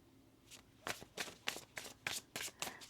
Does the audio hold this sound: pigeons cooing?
no